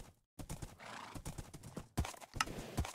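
Video game horse: rhythmic clip-clop of hooves at a quick pace, close and fairly loud, with a brief whinny among the beats.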